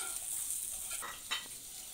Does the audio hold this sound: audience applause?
no